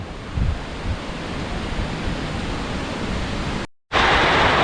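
Strong wind rushes across a farmhouse by the rice fields in Khon Kaen before the rain arrives, a loud, steady roar buffeting the microphone, briefly cutting out near the end before resuming just as loud.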